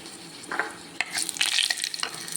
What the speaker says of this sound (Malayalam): ഇതാ കടുക് പൊട്ടിയിട്ടുണ്ട്. നമുക്കൊരു വറ്റൽമുളക് ചെറുതായി കട്ട് ചെയ്ത് അതിലിട്ടിട്ടുണ്ട്